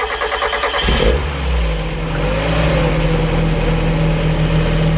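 A turbocharged Mazda MX-5 engine cranks and catches after a second, then runs loud and close with a steady, throaty rev.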